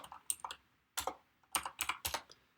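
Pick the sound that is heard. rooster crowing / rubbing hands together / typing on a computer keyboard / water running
typing on a computer keyboard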